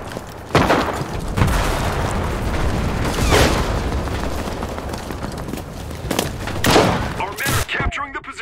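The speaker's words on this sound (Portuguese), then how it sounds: "Ele tá atirando." Gunfire in the World War II shooter Enlisted, with several sharp loud shots and booming blasts scattered irregularly over a noisy battlefield rumble, louder bursts near the start, middle and end.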